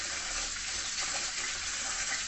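Basmati rice being washed in water, heard as a steady close rush and swirl of water that continues unbroken throughout.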